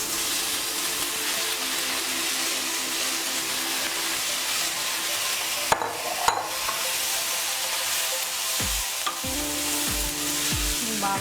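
Amaranth leaves frying with turmeric in a pan, a continuous soft sizzle with a couple of sharp spatula knocks partway through. Tonal music plays underneath.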